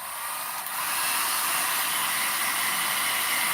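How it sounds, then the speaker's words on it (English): A hair dryer blows steadily, a loud, even airy roar with a hiss on top that holds constant for the whole stretch. "I got to turn this hair dryer on for a second"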